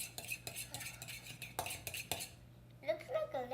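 A utensil stirring scrambled eggs with parmesan in a bowl: a series of close, soft scraping clinks against the bowl, then a voice speaking near the end.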